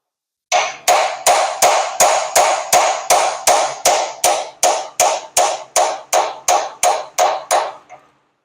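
A hammer drives a bearing onto the crankshaft of a 1920 Nash engine being rebuilt, striking sixteen evenly spaced, close, sharp metallic blows at about two per second, with no talking.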